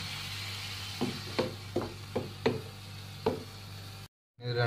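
Beetroot for thoran is stirred in a pan: about six distinct scraping knocks spaced irregularly over a faint background sizzle, followed by a short gap of silence near the end.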